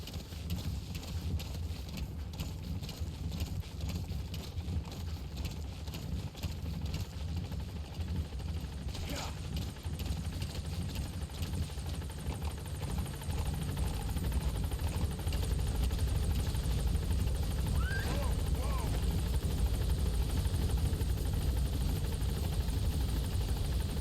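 Extraction helicopter Pequod setting down in Metal Gear Solid 5: The Phantom Pain, a steady heavy rotor rumble with a throbbing low beat that swells louder in the second half, no talk over it.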